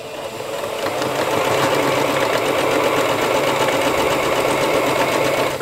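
Sewing machine stitching a patchwork seam straight over a pin, a loud, steady mechanical whir that runs continuously close by after a brief start, with no talking.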